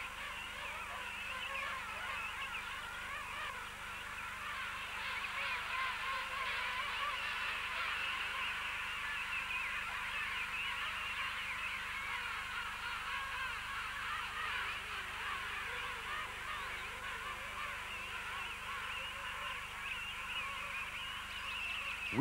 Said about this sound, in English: But the birds manage to identify each other once again thanks to their song.